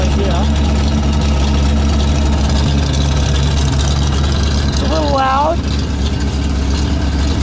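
The engine of a 1966 Chevrolet C60 truck idles with a deep, steady rumble close to the microphone throughout, while a person talks briefly over it.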